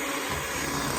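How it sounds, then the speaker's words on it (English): An electric mixer beats a sweet potato bread or pudding mixture with a steady, close whirring drone during a brief moment. "I'm back to beating it with my mixer since it's already out."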